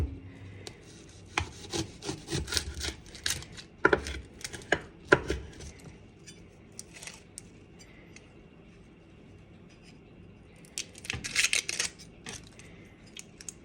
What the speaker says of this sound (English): Dice up some onions.